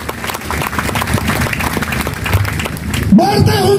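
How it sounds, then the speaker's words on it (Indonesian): Church congregation at a Pentecostal youth gathering in Waropen clapping hands together, a dense, loud wash of claps under crowd noise and voices, ending with a brief louder sound. "Tepuk tangan buat Tuhan Yesus."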